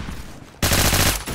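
A K7 submachine gun with an 800 RPM fire rate shooting in Phantom Forces, a loud rapid burst that starts abruptly after a quieter opening and rattles continuously to the end.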